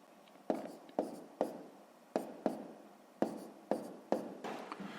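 Numbers are written by hand during a sixth-grade maths multiplication exercise, heard as a series of sharp, quiet pen or chalk taps and strokes at irregular intervals, close and alone.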